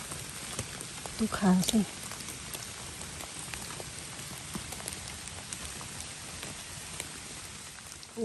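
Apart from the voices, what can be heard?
rain falling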